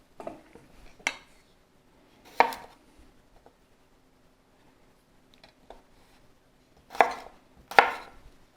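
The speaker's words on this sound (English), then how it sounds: "roughly chop." A knife roughly chopping red potatoes on a cutting board, four or five sharp, close thunks spaced irregularly, with two quick chops near the end and quiet pauses between.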